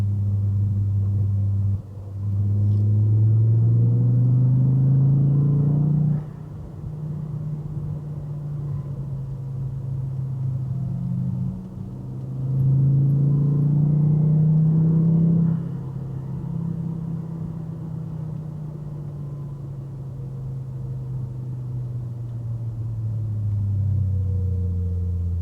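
An engine hums and rumbles from inside a car following a Porsche on the road, rising and falling in pitch as it accelerates and eases off in long swells.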